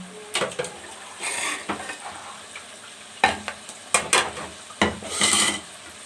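Chicken, about 250 grams, with tomatoes and lemon juice is stirred in a hot pan for achar gosht. Soft sizzling runs underneath while a spoon scrapes and clatters against the pan in irregular bursts, close and clear.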